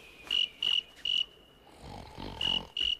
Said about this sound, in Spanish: Es de grillos.